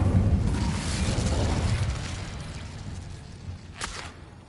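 An Incendio fire spell is cast in a Hogwarts video game, giving a loud burst of roaring, whooshing flame that fades over a few seconds, followed by a brief, sharper crackle near the end.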